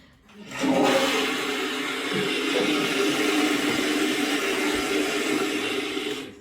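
A toilet flushes, starting abruptly with a loud rushing roar of water that holds steady for several seconds before cutting off, close by with no voices.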